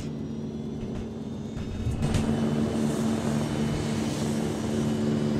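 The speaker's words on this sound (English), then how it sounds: "You guys do see the first helicopter taking off there, the second one taking off there, and then there's the third" Military helicopters take off in the Arma 3 video game: a steady mechanical drone that swells noticeably louder partway through and then holds a constant roar.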